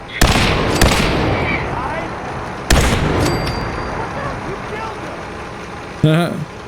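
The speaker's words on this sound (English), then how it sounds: "Fire at will. Broadside them, soldier." Ship cannons fire broadsides in the Fallout 4 VR video game, heavy booming blasts at about one, three and six seconds, each trailing off into a long rumbling roar.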